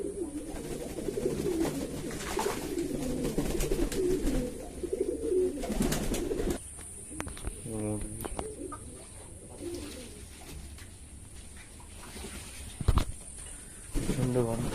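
Pigeons bathing in water on a very hot day, giving repeated soft throaty coos and splashy flutters close by, with a person talking in the background for part of the time.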